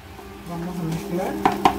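Shredded cochinita pibil pork is stirred and scraped in a pan with a utensil, a soft low churning with two sharp metallic clinks near the end, close by.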